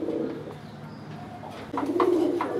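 Pigeons kept for sale, a red female and a silver one, coo close by in soft repeated throaty calls, with a louder burst of cooing near the end and no talking.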